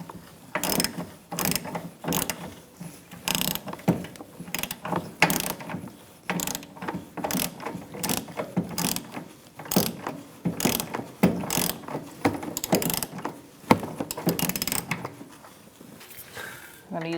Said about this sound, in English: I'm just going to ratchet it in a little bit